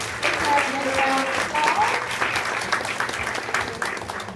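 Applause from an audience for models at a ladies' day fashion show, sustained clapping throughout with brief voices and faint whistles mixed in near the start.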